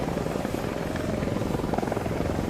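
A helicopter in a video game gives a steady, close rotor thump over a dense engine roar, heard alone without any talking.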